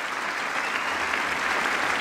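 Steady applause from a cricket crowd at Headingley during a 2017 Test match against England, a dense, even patter of clapping that holds without a break and with no talk over it.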